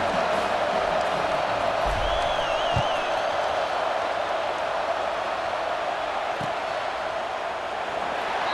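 Stadium crowd noise from the EA Sports College Football 26 video game, a steady, dense roar that stays even and fairly loud throughout, with a faint whistle-like tone briefly rising above it and no clear bursts of cheering.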